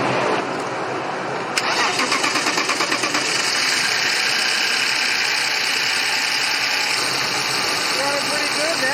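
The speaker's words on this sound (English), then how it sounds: "Let's see if this thing starts up and idles." A 1998 BMW 328is with a five-speed, long parked, cranks with a sharp starter whir, catches, then settles into a steady, slightly rough idle. Loud background noise runs throughout.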